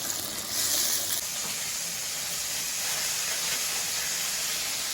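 Onions frying in plenty of hot oil while preparing a Ukrainian dinner give a steady, close, even hiss that holds for the whole stretch with no one talking.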